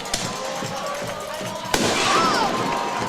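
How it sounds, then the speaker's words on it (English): Fireworks burst over a high school football game crowd, with a steady roar of spectators and crackling pops throughout, then a sharp loud bang near the middle followed by sustained crackle and cheering. "fireworks going off"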